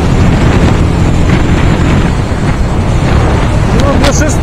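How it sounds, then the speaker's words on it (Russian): Regulmoto Alien Monster 300 motorcycle engine droning steadily while riding, mixed with heavy wind rush on the microphone and a voice talking over it. "мне здесь звук двигателя нравится больше, чем и у Баджаджа, и у Текина"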